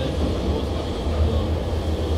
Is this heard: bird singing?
no